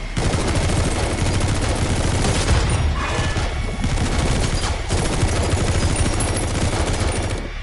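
Dense gunfire from the Metal Gear Solid V video game rattles without letup, a loud continuous fusillade of overlapping shots and bursts filling the whole stretch.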